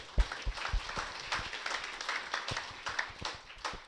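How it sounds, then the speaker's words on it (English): An audience at a gubernatorial candidate forum gives a brief round of applause, scattered individual claps, fairly faint and distant, with no talk over it. "Let's just give everybody a round of applause real quick"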